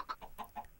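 Minecraft chickens cluck in a quick series of short, close game-sound bursts, with about four or five distinct clucks across under a second and no talking.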